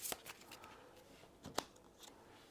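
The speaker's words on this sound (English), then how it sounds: "I'll give these a quick shuffle" Game cards for a Skies Above Britain tabletop campaign are given a quick shuffle: a few quiet, brief papery riffles and snaps, spaced irregularly with near-silence between them and no voices.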